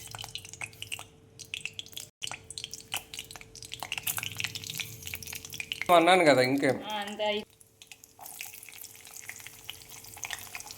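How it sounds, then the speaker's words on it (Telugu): Tempering spices dropped into about five spoons of hot oil in a pan on the stove, giving a sudden loud crackling sizzle that bursts briefly and settles, with someone talking before and after. "ఇప్పుడు పోపు వేస్తాను."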